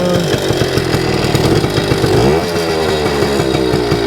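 A 1974 Kawasaki MT-1B two-stroke minibike engine runs loud and close with a buzzy, raspy tone, its pitch rising and then dipping as the revs change, heard alone.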